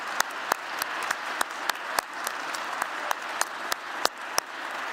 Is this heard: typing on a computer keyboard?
no